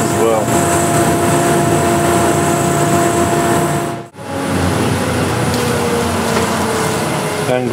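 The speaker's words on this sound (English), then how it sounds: "figured out that this yoke sands quite easily," A wooden yoke spins on a lathe while being sanded, a loud steady motor whir with broad rasping hiss that briefly cuts out midway before resuming, with no talking.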